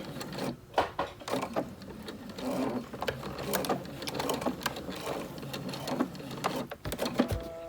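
A sewing machine stitches quilt blocks into rows in short bursts of rapid stitching, stopping and starting with clicks and mechanical clatter between runs.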